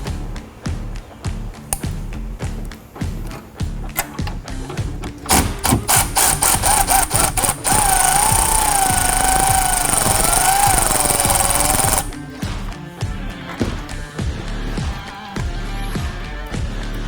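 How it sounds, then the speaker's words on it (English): Nuts on the battery terminals of a 2021-or-newer Ford Bronco are tightened while wiring a roof-mounted LED bar. Close, sharp tool taps and clicks run throughout, with a steady whirring burst lasting about four seconds in the middle. "Make sure both nuts are firmly tightened"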